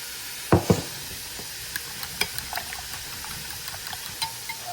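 Ingredients being beaten together in a bowl: a couple of sharp knocks at the start, then quiet, scattered clinks and scrapes with no talking.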